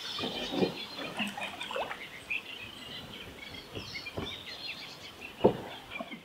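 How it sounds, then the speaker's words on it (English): Scattered morning bird chirps and calls ring out at a moderate distance over a quiet riverside backdrop on the River Waveney, with a couple of sharper nearby notes. "You can hear the bird song."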